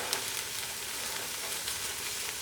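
Garlic cooking in a pan for vegan beef crumbles, giving a soft, even sizzle that holds steady throughout with no talking.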